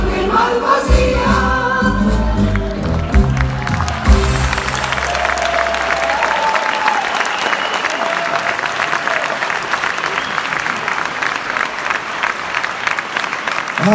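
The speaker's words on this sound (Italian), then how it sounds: "ancora un applauso" An audience applauds a choir, a dense, steady wash of clapping that swells after the final sung notes and continues evenly and loudly to the end.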